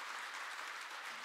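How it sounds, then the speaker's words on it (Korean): A church congregation gives a short burst of encouraging applause at a special dawn prayer service, dense, even clapping that fills the whole moment at moderate level. "큰 격려의 박수 부탁드리겠습니다."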